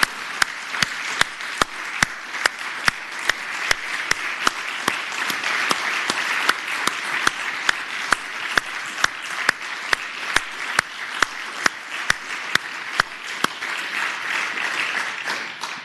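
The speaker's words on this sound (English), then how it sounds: "Let's give Susan and her staff a round of applause." A round of applause fills a state Senate chamber, sustained clapping from a crowd with sharp individual claps standing out over the steady wash for about sixteen seconds.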